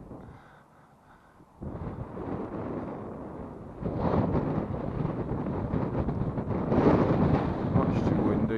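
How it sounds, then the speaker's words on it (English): Strong wind buffets a microphone outdoors, a rough low roar that swells in gusts and grows louder partway through, with a voice speaking underneath at times. "Much too windy."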